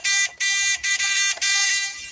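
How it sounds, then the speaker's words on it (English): A loud, harsh electronic buzzer blares on a stock-market livestream, sounding in several long bursts separated by brief gaps, with no talking over it. "Let's get the buzzer going. Here comes the buzzer."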